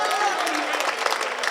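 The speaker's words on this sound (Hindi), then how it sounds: "एक बार फिर दोनों हाथ उठाकर गड़गड़ाती तालियां बजाएं।" Applause from the audience at a Hindi kavi sammelan poetry gathering, a dense, steady wash of many hands clapping at moderate level, heard briefly and on its own with no talk over it.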